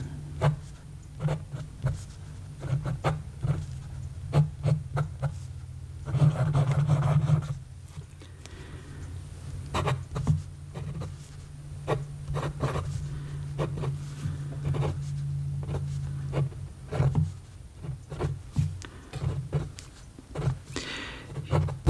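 A Fountain Pen Revolution Guru piston-filled fountain pen with a heat-set nib writes on paper with audible feedback, a close scratchy rasp of many short strokes and pauses running throughout.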